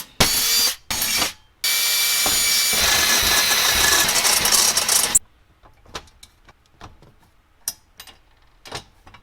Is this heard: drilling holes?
yes